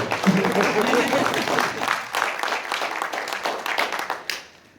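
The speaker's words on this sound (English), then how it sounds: "Yes, we can clap." An audience claps at a Martin Luther King Jr. program, a loud burst of many hands that thins into scattered claps and fades out near the end, with some voices mixed in.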